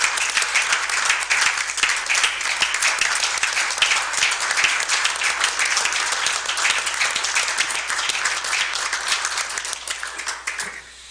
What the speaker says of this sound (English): I'd like to applaud you as well.